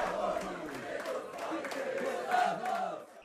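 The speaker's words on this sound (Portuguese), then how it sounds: "Começa o jogo e a torcida faz festa." A football crowd celebrates at Pacaembu stadium during a Santos vs Corinthians semi-final, sending up a sustained, distant roar of chanting voices with a brief swell near the end.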